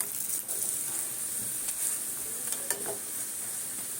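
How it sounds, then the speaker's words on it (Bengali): Lachha paratha frying in oil in a pan, a steady hiss of sizzling with a few soft scraping stirs, close and continuous with no talk. "তেল দিয়ে পরোটাটা দিয়ে দিয়েছি"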